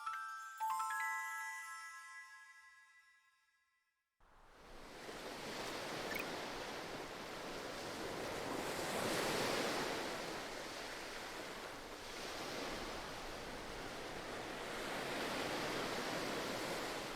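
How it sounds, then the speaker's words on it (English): Flowing water and rushing waves in Bravely Default II form a broad, continuous wash with slow swells. A short tinkling chime precedes it, followed by a moment of silence before the water sound surges in and holds steadily. "I love how the water just continues to runneth over them"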